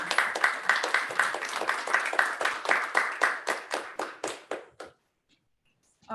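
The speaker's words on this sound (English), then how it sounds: "Let's give our Kundak students a round of applause." A small audience claps for Kundak students at an Inupiaq fine arts festival, a sparse group of close, distinct hand claps in a quick uneven rhythm that thins out and stops after about five seconds, leaving silence.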